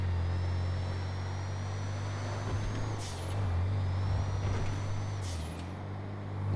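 A truck in GTA V drives with a steady low engine drone, its pitch swelling and dipping twice, while thin whining tones and brief hissy bursts ride on top, loud and continuous with no talking.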